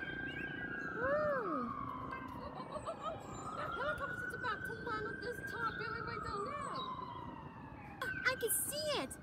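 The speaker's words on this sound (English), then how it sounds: "Look, look. Here's an ambulance." An ambulance siren wails in rising and falling sweeps near Cabot Tower, moderately distant, over a rumbling outdoor background, with voices joining in toward the end.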